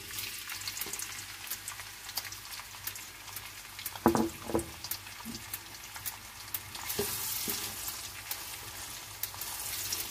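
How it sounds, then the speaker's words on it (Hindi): Chopped onion going into heated oil for spinach mutton curry, with a sudden loud sizzle burst and a few stirring knocks, settling into a continuous crackling fry. "ऑयल थोड़ा सा हीट अप हुआ था, हम उसमें अपना प्याज ऐड कर देते हैं।"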